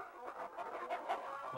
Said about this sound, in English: Oh. All the chickens.